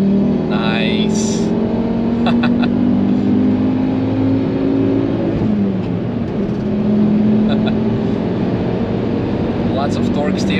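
A Volvo V70 T5 tuned to around 400 hp accelerates hard on the Nürburgring, engine droning loudly from inside the cabin as revs climb steadily, with brief clicks and shifts along the way.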